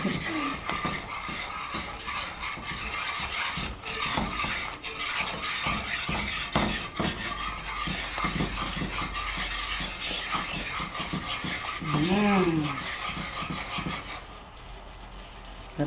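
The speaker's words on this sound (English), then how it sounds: "And you just stir it in until all of the white from the milk is gone." Milk being stirred into gravy in a pan, a continuous scraping, clicking rub of a utensil against the pan in repeated strokes, with no talk.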